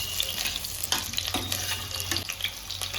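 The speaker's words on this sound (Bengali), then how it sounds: "প্রথমে আমি সরষের তেল দিয়েছি। এবারে আলুগুলো ভেজে নেব।" Potatoes frying in mustard oil sizzle and spatter close by, with intermittent stirring scrapes and clinks against the pan over a low background hum.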